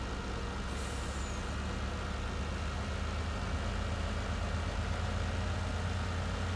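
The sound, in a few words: farm truck driving, from the video game Farming Simulator 19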